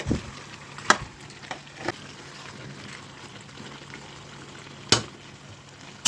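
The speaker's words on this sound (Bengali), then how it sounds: "কিছুক্ষণ ফুটবে এটা" Mutton curry with potatoes bubbling in a pot, a soft, steady simmering hiss with occasional sharp clinks or taps rising above it, fairly quiet and with no voices.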